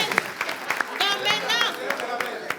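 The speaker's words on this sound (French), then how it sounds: "On va quand même applaudir le candidat de l'équipe." An audience claps for a team's candidate on a French-language stage show, a brief burst of scattered applause and crowd noise mixed with an excited voice talking over it.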